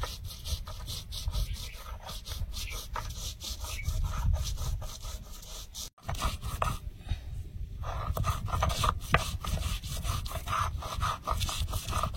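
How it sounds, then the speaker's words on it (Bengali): Black pepper and garlic ground by hand on a flat grinding stone, a steady close rhythmic rubbing and scraping with a brief pause midway before the strokes resume; no talking. "আর ভাজতে ভাজতে একটু গোলমরিচ আর রসুন একটু বেটে নেবো শিলে।"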